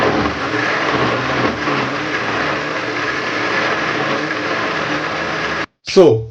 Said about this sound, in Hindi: इसे ग्राइंडर पे इसको जो है ग्राइंड कर लेंगे